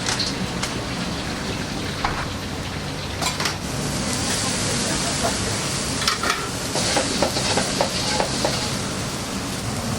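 Yakisoba noodles for ankake yakisoba searing in a pan at a busy ramen diner, a steady loud broadband sizzle with scattered crackles and pops running throughout.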